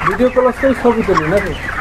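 A handheld chicken gives repeated short, close clucks in a quick uneven rhythm, loud and clear with little else around it.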